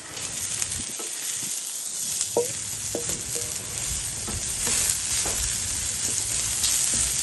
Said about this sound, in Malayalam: ഇതിലേക്ക് നമുക്ക് വേണ്ട സവോള ഇട്ട് കൊടുക്കാം.